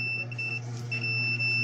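A basketball scoreboard buzzer sounds under test as a steady electronic tone that cuts out briefly midway and then resumes, over a low mains hum, close and fairly quiet.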